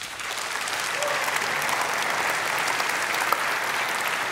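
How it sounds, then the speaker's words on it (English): A large conference audience at Unite Europe 2015 breaks into steady, full applause that holds at an even level throughout, heard from a moderate distance. "I think that deserves a huge round of applause."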